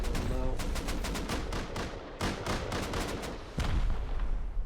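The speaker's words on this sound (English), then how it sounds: "You can see the gunfire's picked up a lot more as the rockets have picked up the pace" Gunfire and rocket blasts in the video game Rust form rapid, loud bursts of repeated shots with heavy booming impacts, the firing dense and sustained over a rumbling background.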